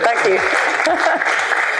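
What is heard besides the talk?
audience applause for a speaker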